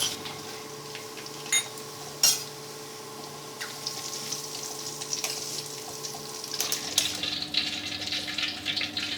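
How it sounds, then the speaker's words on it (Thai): Pork pieces deep-frying in hot oil until golden and crisp give a steady crackling hiss throughout, with a few sharp clicks and knocks from the pan and utensils. "ทอดจนกระทั่งหมูเหลืองสุกกรอบแบบที่เราต้องการเลยครับ"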